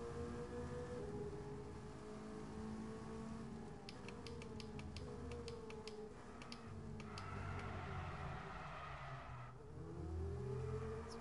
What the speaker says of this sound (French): On appelle du drift.